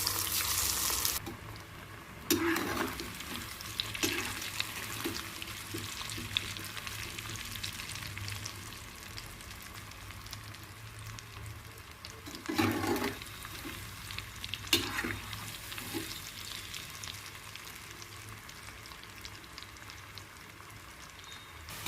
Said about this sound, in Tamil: இப்போ எண்ணெயில் வந்து போட்டு ஓனை போட்டு பொறிச்சு வச்சிடலாம்